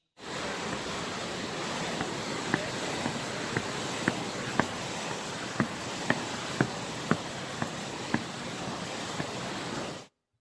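Low Force, a waterfall on the River Tees in Upper Teesdale, gives a steady, broad rush of falling water throughout, with faint regular clicks or taps running over the roar.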